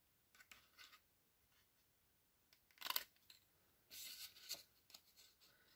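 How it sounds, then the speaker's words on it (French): Scissors snip a small paper square at an angle for a craft letter, a few quiet close cuts with faint crisp paper crunches in short bursts and pauses, and no talk. "Vous coupez le petit carré en biaisant de chaque côté."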